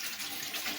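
Water runs from a tap in a steady, soft hiss for under a second, with no voices.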